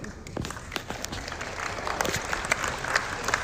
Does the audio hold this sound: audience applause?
yes